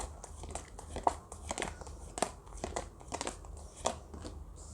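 Tarot cards are shuffled and drawn by hand, giving quiet, close papery flicks, slides and crinkles in an irregular rhythm.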